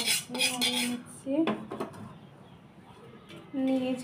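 A spatula scrapes and clinks against a kadai wok, with sharp metallic rings and short stirring strokes in bursts separated by quieter gaps.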